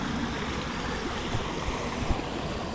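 Mountain stream flowing while empty bottles are filled on a solo backpacking trip, a steady broad rush of water nearby with a few small splashes, no voices.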